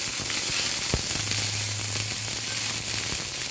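Garlic paste sizzles steadily in a hot pan, a loud, close, continuous crackle and hiss with occasional sharper pops and a faint low hum underneath.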